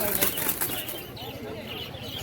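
Pigeons, including Giribaz and other fancy breeds, flap their wings in bursts at a busy weekly bird market in Birnagar, the fluttering close and crisp while people talk nearby.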